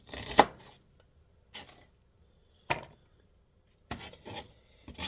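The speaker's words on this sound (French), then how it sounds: "je coupe mon oignon" Knife chopping an onion on a board in a home kitchen, a few separate crisp cuts spaced about a second apart, close and clear with no talk.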